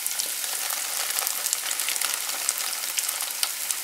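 Vegetables sauté in a hot pan with a steady, crackling sizzle, close and fairly loud, with small pops and spatters throughout.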